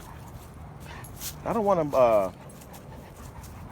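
A German Shepherd puppy whimpers and yips in a short rising cluster of high cries at a dog park, close and loud, with a person talking over it.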